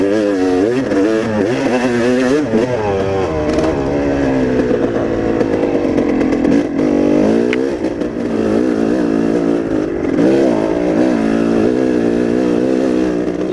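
A dirt motorcycle with a hill-climbing tyre revs hard and steadily on a steep hill, its loud, raspy engine rising and falling in pitch throughout without pause.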